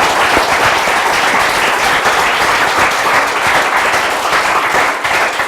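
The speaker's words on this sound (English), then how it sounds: "So if we could have a round of applause for Ben Howlett" A hustings audience gives a candidate a round of applause: dense, sustained clapping from a crowd, loud and even for the whole stretch.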